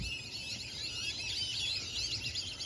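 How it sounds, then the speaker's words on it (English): Many birds call together near an old tree in Port St. Lucie, a dense, steady chorus of high chirps and tweets filling the scene at moderate distance with no talk. "All these birds started coming."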